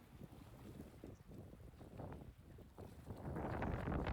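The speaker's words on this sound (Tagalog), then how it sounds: "Ang lakas ng hangin dito." Strong wind buffets the microphone at night on the water while fishing off Bermuda near Hamilton, a steady low roaring rush that grows louder and gustier toward the end.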